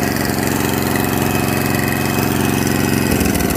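An Atco Balmoral cylinder mower's petrol engine, just after a carburetor cleaning, revs off choke with a loud, steady, continuous drone up close, the pitch shifting slightly near the end.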